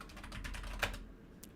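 A new computer keyboard is typed on with a quick, close run of soft key clicks and one sharper tap before a brief pause, fairly quiet overall.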